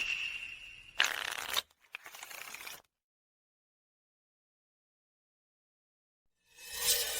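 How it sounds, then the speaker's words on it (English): A deck of playing cards is shuffled at a gambling table during a card game at a wedding: two quick riffling bursts close up, then near-silence and a final burst of shuffling at the end. "Nina, I'll shuffle the cards now."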